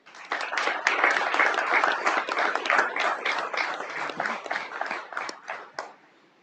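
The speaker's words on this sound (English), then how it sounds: "you can clap after each person if you'd like" Audience clapping at a city council meeting, a burst of scattered hand claps from a modest crowd in a hall that swells quickly, holds for several seconds, then thins out and stops.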